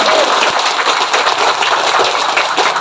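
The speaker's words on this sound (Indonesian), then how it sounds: "tepuk tangan dulu saking semangatnya" Group of people clapping together at a training session, a dense, loud, continuous patter of many hands that stays even for about three seconds.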